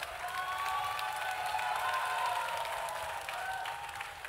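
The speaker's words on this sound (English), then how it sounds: "give a big round of applause, you know, for all the chefs here" An audience at a food and drink masterclass claps for the chefs, a sustained wash of applause with some crowd noise, even and moderately loud throughout.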